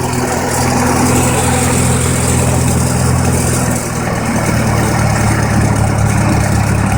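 A 1953 Super H tractor engine running at a medium idle, a loud, steady, low chugging putter close by, with no voices.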